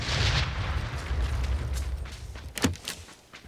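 Gunfire explosion in an online shooter game, a muffled boom with rumbling low end, followed by a sharp nearer shot and fading rumble; no speech.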